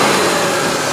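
A 1988 Mercedes-Benz 560SEC Euro engine, just fitted with a replacement fuel pump, runs steadily close by, a continuous loud mechanical drone with no clear rise or fall.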